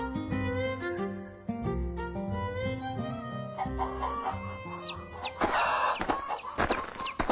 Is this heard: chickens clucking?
yes